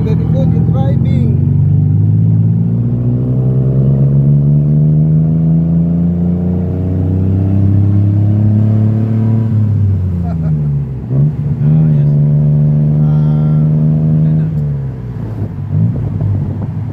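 Car driving through downtown Thailand, its engine note rising and falling steadily through gear changes, close and continuous, with people chatting inside.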